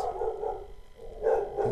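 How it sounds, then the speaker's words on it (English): A dog barks in the background of a gaming session, giving a few muffled, mid-distance barks in two short clusters with a brief pause between them. "My dog's going crazy in the background."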